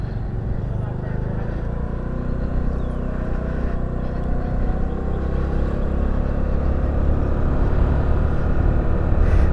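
A 2022 Honda Navi motorbike engine holding a steady droning rumble that builds slightly in loudness as it accelerates, close and continuous with wind noise.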